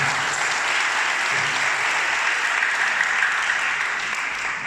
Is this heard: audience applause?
yes